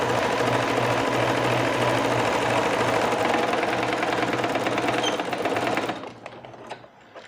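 A sewing machine stitches a peplum top in a fast, continuous mechanical whir with rhythmic needle clatter, close by, stopping abruptly near the end, followed by a few faint handling clicks.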